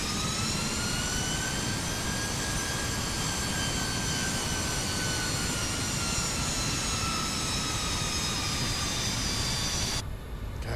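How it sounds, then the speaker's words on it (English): Steady, loud jet engine roar from a Fokker F70 regional jet in a flight simulator, a continuous whine with high tonal hum sustained throughout before cutting off near the end. "Gosh, those engines sound good."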